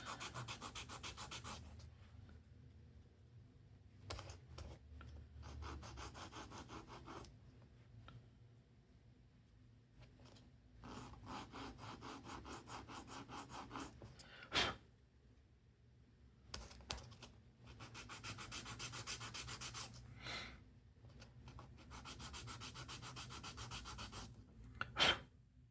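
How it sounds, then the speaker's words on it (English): Sandpaper rubbing on the sides of a part for an Estes Blue Origin New Glenn model rocket kit, heard as quiet, close bursts of rapid back-and-forth scratching strokes separated by short pauses. "Now I'll just take a little bit of sandpaper and just sand all 4"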